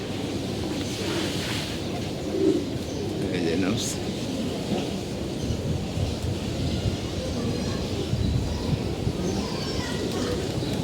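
Soft, low pigeon coos murmur repeatedly beneath a steady background hum, with occasional brief chirps and faint distant sounds.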